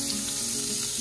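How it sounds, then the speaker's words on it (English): Butter being moved around a hot pan sizzles in a loud, continuous, close-up hiss with no talking. "I'm gonna move that butter around in there."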